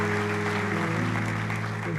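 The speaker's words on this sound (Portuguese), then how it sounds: "Aplauda o Senhor." A church congregation claps in a dense, continuous wash of applause, loud and steady throughout, with a sustained tonal hum underneath.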